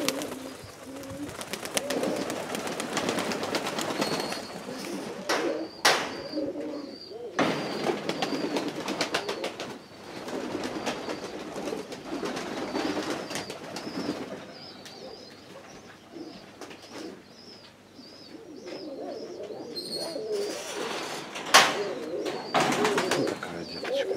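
Pigeons coo in a dovecote with repeated low, rounded calls that overlap throughout, along with rustling, wing flutters and a few sharp knocks and clatters.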